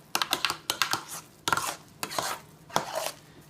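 Mashed potatoes being mixed in a pot, with irregular clacking taps and scrapes of a utensil against the pot in quick bursts and short pauses.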